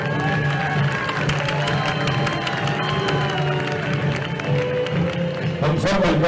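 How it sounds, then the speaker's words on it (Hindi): Crowd applauding at the closing ceremony of the eighth Khajuraho International Film Festival, continuous sustained clapping with cheers and scattered shouts throughout, a loud busy hall with voices underneath. "तालियां"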